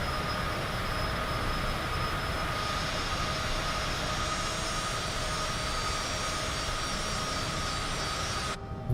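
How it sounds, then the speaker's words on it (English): Jet plane engine noise in Microsoft Flight Simulator 2020, a loud, steady roaring whine that continues unbroken and cuts off abruptly at the very end. "It's a jet plane. It's going to be noisy."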